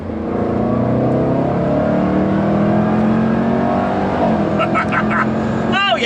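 A 2019 Jaguar F-Pace SVR engine in sport mode revs up and holds a steady roar under ongoing talk, with a few short chirping tones near the end.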